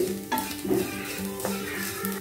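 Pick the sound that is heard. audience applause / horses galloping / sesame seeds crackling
sesame seeds crackling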